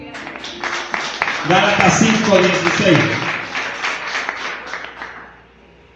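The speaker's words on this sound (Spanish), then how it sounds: "Dale un aplauso a Cristo." A church congregation claps during a sermon, a steady patter of many hands that runs beneath the preacher's voice as he speaks over it, then fades out.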